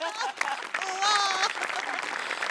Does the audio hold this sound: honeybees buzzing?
no